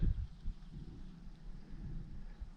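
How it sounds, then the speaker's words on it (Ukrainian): Distant thunder rolls through a forest in the Carpathian mountains, a low, faint rumble that swells and fades softly in the background, with no one talking. "І так гримить, мабуть, дощик буде і тут."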